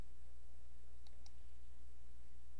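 Two quiet, crisp mouse clicks, a short pause apart, land against a low steady room hum while someone works in Gmail.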